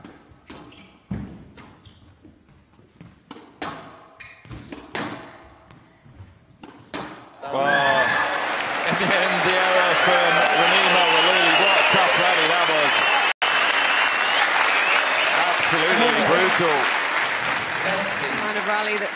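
Spectators at the PSA Women's World Championship 2017 burst into loud, sustained applause for a long squash rally after several sharp ball strikes, and the clapping fills the rest of the clip.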